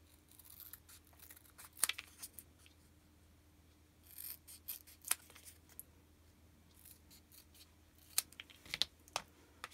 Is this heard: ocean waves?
no